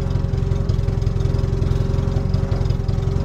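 A Datsun 720 4WD diesel farm truck idles steadily up close, a loud, even low rumble with a rapid rhythmic knock and no pauses.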